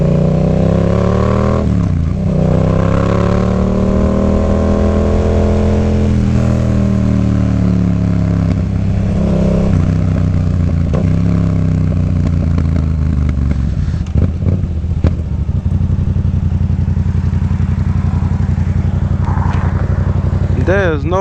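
A Yamaha FZ-07 motorcycle engine runs loud and close, its pitch swelling and falling with throttle blips and revs, then settling before rising again at the end.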